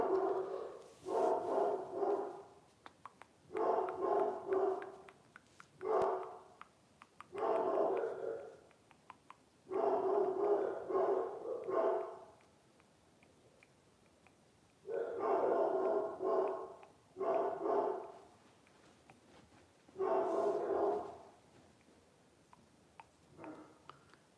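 Several dogs bark in repeated clustered bursts with short pauses between, moderately close and fairly loud, with occasional yips and no talk over them.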